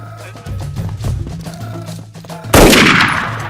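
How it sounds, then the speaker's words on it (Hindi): Gunfire in a Hindi action film scene, a sudden loud blast with a long ringing echo after a stretch of tense low musical tones and faint ticking. "अबे फायरिंग हो गई"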